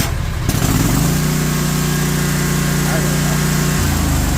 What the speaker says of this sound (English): Lawnmower chugging away, trying to pull on it.